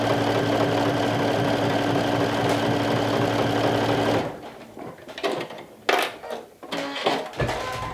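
An electric sewing machine runs a triple stretch stitch with a steady, loud, rhythmic mechanical whir for about four seconds. It then stops, leaving softer handling clicks and rustles.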